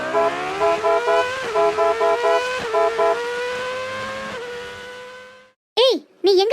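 A cartoon vehicle skids to a stop on a road with a loud, drawn-out squeal broken by rhythmic bursts. It fades out and is followed by a short, sharp voice.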